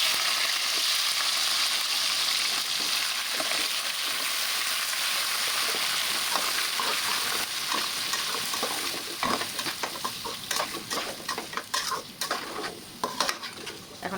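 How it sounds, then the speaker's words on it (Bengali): Vegetables frying in a pan with ginger, garlic and green chili, a loud steady sizzle giving way to rattling scrapes and clinks of stirring toward the end. "এই তো আমার আদা রসুন আর কাঁচা মরিচগুলো একদম লাল লাল করে ভাজা হয়ে গেছে"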